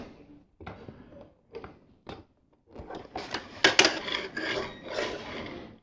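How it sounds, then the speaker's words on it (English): A LEGO Technic axle sliding into a Technic brick on a big wheel and tire, heard as short plastic clicks and knocks followed by a longer rasping, scraping rub, close up and moderately loud. "And we slide that axle in there."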